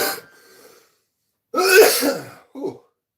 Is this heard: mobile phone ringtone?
no